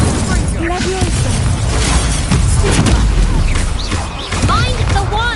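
Incendio fire spell blasts in Hogwarts Legacy, a dense roaring whoosh of flame and impact crashes that stays loud and continuous, with a voice talking over the chaos.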